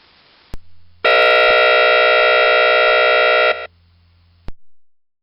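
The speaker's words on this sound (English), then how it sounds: "Here is what the shelter horn sounds like." Plant shelter-in-place horn alarm: one loud, steady electronic horn tone sounding for about two and a half seconds, with a sharp click before and after it.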